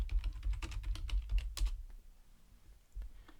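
Fingers type quickly on a computer keyboard to enter a search term in Canva, producing a rapid run of close, crisp key clicks for about two seconds. A few more isolated taps follow after a short pause.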